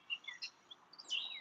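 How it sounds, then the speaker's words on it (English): Several birds chirp and tweet in a backyard, short high calls scattered across the clip with a brighter burst near the end, faint and fairly distant with no voices. "I'm doing that for the microphone because otherwise you just hear all birds."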